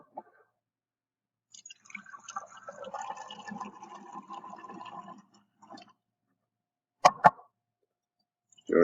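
Bromothymol blue solution is poured from one glass into another, giving a soft, sustained liquid trickle for a few seconds, followed by a couple of sharp glass clinks near the end.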